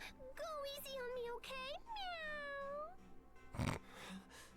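In the video game Tales of Graces f, a character's voice imitates a cat with a few drawn-out, whiny meows in a row, followed by a sharp thump-like hit near the end.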